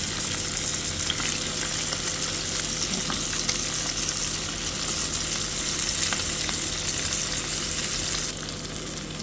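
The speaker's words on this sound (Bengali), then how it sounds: "এপিট ওপিট করে ভেজে নেব।" Small puti fish fry in hot oil in a pan with a continuous close, dense sizzle and crackle, steady throughout and fading slightly near the end, no talking.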